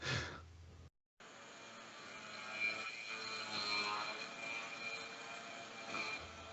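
A CNC milling machine runs its program with a carbide tool at full programmed feed and spindle speed, producing a steady high-pitched whine and hum after a brief silent gap, with no talking.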